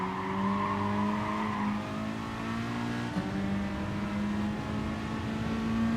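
Race cars in Gran Turismo Sport roar down a straight in an online daily race, with loud sustained engine drones holding pitch and a brief shift near the middle, plus faint tyre noise and no talk.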